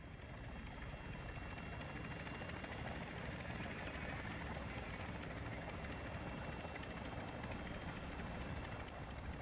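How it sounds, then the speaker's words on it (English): An enemy attack helicopter approaching in the Call of Duty DMZ video game: a steady, low, distant rotor rumble that holds at an even level throughout, with no voices. "Be advised, the enemy attack helo is approaching your location."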